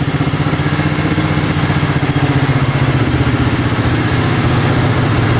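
A motorcycle engine, just fixed at the carburetor, idles steadily at about 1500 RPM with a loud, even, close-up thrum and no voices.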